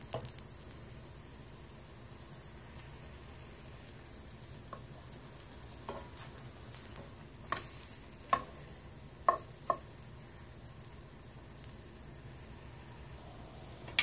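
Corn fritters frying in a pan give off a faint, steady sizzle, with a few sharp scrapes or taps from a utensil near the middle. No voices are heard.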